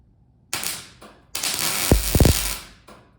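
Welding of metal onto a metal dome, heard as loud harsh crackling bursts that start and stop, the longest lasting about a second, with a few low thumps in the middle.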